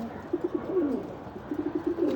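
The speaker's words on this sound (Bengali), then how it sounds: "তারপরে এই যে কবুতরই গোসল করতেছে।" Pigeons coo in short rhythmic bursts while being bathed in water mixed with alum, the calls close and moderately loud with a brief pause in the middle.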